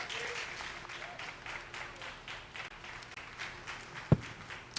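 Audience at a livestock show clapping for the junior showmanship champion and reserve winners, steady moderate applause from a crowd in an arena, with one sharp knock near the end.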